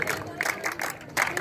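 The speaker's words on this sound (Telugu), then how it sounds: "ఆడియన్స్ ప్లేయర్స్ అని గట్టిగా చప్పట్లు కొట్టాలి." Crowd clapping for players at a women's inter-state invitation kabaddi tournament in Aija, a scattered patter of applause rising in bursts, with some background voices.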